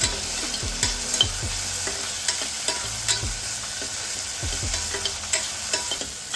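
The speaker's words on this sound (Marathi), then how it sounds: "आता त्याच्यात तेल टाकायचा। एक चमचा तेल टाकूया। परत मग परतून घ्यायचं।" Onion, tomato and curry leaves sautéing in a spoonful of oil for snake gourd bhaji give a steady close sizzle, with repeated scraping stirs of a spoon against the pan throughout and no voices.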